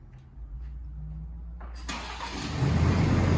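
Remote start of a 2020-23 Ford Ranger: a quiet idle background, then a sudden engine crank that catches and settles into a loud, rising idle roar.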